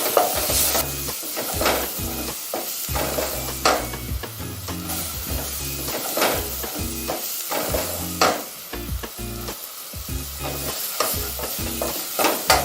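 Freshly sliced leeks with a little turmeric frying in a pan for a vegetable chapatti wrap, giving a steady close sizzle broken by frequent scraping stirs of the spoon throughout.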